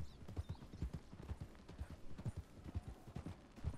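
Horses clip-clop steadily in the video game Red Dead Redemption 2, a quick rhythmic run of hoofbeats at moderate distance under a faint wash of ambience, with no speech.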